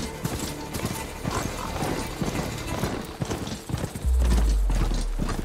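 Horse hooves clip-clop rapidly and steadily in Horizon Forbidden West, with a neigh breaking in near the end, loud and close over the game's ambient sounds.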